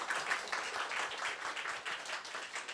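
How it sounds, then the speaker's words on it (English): A startup pitching event audience applauds in a steady wash of dense clapping that holds at a moderate level throughout, heard from within the crowd. "one more round of applause for all our 10 fantastic pitches."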